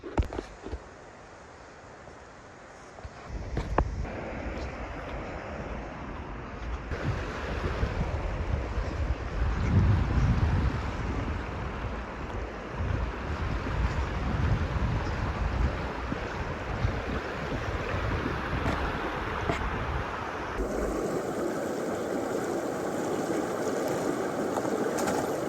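Flowing river water from a stream beside a backcountry hut on a winter route, a steady broadband rush that holds for most of the clip, with wind buffeting the microphone and no talk.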